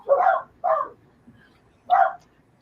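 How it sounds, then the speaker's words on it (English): A dog barks three times nearby, two quick barks and then a pause before a third, with quiet background sound between them. "Dog alert."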